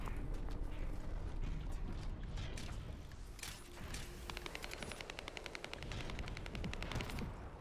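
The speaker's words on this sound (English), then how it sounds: "I can hear some other cuzzies shooting as well." Gunfire in the shooter game The First Descendant: dense bursts of rapid automatic shots over a busy mechanical background, with a fast, even rattle toward the end.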